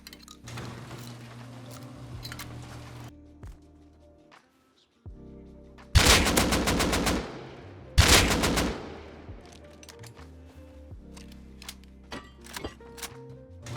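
AK rifle fire in a video game, heard as two loud bursts of rapid automatic shots with a pause between them, plus scattered single shots and clicks against quieter background sounds.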